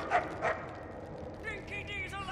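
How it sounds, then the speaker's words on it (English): A small dog barking in the Mad Max video game, two sharp close yips in quick succession, followed by softer whimpering tones as someone talks over the game's background. "Good dog."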